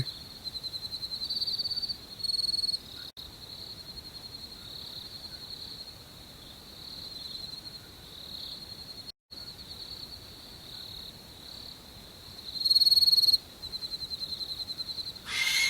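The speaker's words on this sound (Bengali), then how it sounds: "আশেপাশে ঝোপ জঙ্গল থেকে ঝিঝি পোকার ডাক ভেসে আসছে।" Steady, high-pitched cricket chirring from bushes fills the night air without pause, with a few brief louder bird-like notes standing out now and then.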